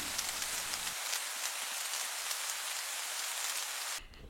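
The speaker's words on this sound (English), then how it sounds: "It's fucking raining every single day." Steady rain falls on a surface in a close, even hiss of countless drops, continuous and fairly loud, with nobody speaking.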